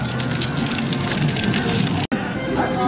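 Water gushes and splashes continuously at close range in a splash pond at Legoland Florida, loud and steady, with a brief cut near the end before it resumes.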